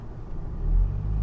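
A car engine idles steadily in a low, continuous rumble, swelling slightly midway, while the vehicle sits in a gas station drive-through area.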